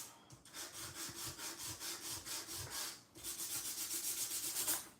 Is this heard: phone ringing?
no